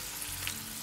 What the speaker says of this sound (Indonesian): Ini saya selesaiin menggoreng dulu